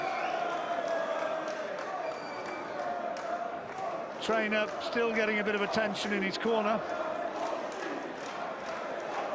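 A happy boxing crowd cheers and shouts after a bout between Ryan Walsh and Darren Traynor, a roaring, lively arena din with whistles and yells rising in the middle, heard under a commentator talking throughout.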